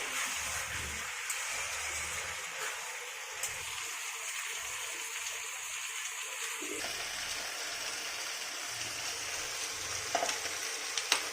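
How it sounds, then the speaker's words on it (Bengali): Potatoes with spices are sautéed in a pan for a Bengali pointed gourd curry, a steady moderate sizzle that runs through the whole stretch with occasional stirring scrapes and a few light clinks near the end. "আলুটা দিয়ে দিলাম, এবার ভালো করে কষাবো।"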